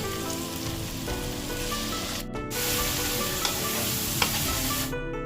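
Garlic paste hits golden fried onions in hot oil for fish pilaf, making a loud, dense, continuous sizzle and crackle close by, with faint stirring scrapes and no speech.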